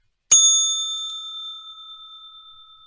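A single bright bell strike rings out clearly and alone, its clean metallic tone holding and slowly fading for over two seconds, like a market opening bell.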